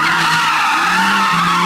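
A turbocharged, intercooled Audi Quattro rally car screams at high revs while its tires skid, a loud, close, sustained whine with a shifting pitch and no voices.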